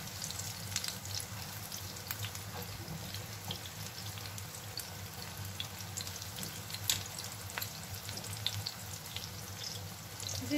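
Aubergine slices frying in hot oil, a steady dense sizzle and crackle that continues without pause, close and even in level.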